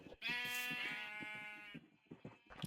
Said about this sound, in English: Finally got a animal sheep farm.